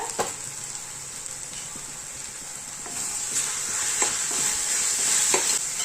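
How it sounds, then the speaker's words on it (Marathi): Masala paste for a sprouted moth bean and potato usal fries in oil with a steady, fairly quiet sizzle, broken by a few sharp scrapes and stirring clicks. Nobody talks. "आपल्याला आता हे वाटण छान तेल सुटेपर्यंत परतून घ्यायचंय"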